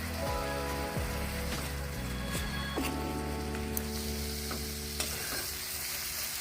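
Spice paste with turmeric frying in oil for a Bengali rohu fish curry, a steady close sizzle with scattered stirring scrapes and taps throughout, no voices.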